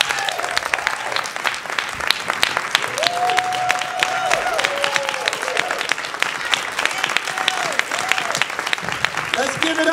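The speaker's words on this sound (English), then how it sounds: "Give another round of applause, please." A school district state-of-the-address audience claps throughout, a continuous crackle of many hands with a voice talking over it at times.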